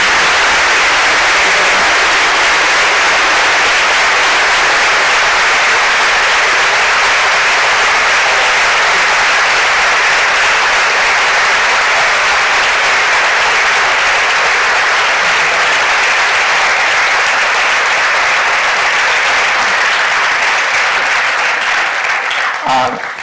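Sustained, loud audience applause fills a hall after a lecture by astrophysicist Jocelyn Bell Burnell on the value of science, a dense, even clapping wash lasting over twenty seconds before fading at the end.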